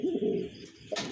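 A male pigeon in a cage gives a low, throaty coo, close and clear, followed by a brief rustle.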